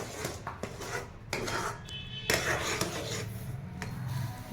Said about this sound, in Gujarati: તલ નાખી ધીમા તાપે હલાવતું લેવાનું સતત